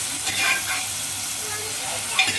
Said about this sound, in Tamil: நல்லா ஆனியன் ஃப்ரை ஆகணும்